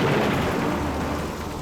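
Thunder rumbles and heavy rain roars together in a storm, a loud, continuous broadband wash with a deep low rumble that stays steady and builds slightly at the start, with no voices.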